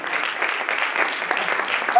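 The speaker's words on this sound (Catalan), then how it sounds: "un fort aplaudiment!" Applause from a group of session attendees at a teaching innovation conference, a steady patter of clapping hands lasting throughout, fairly close and moderately loud.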